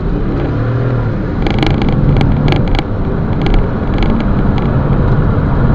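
A 2017-era Audi A5 Sportback 3.0 accelerating hard on the road, a loud, steady engine and road roar with brief ticking bursts over it and no talking.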